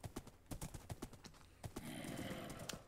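Hooves of a horse in the video game Minecraft clop along in a quick, uneven walking rhythm, a dozen or so sharp thuds, ending with a brief burst of game noise.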